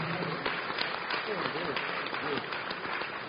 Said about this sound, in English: with a huge round of applause, let's welcome Mr. David Ampofo.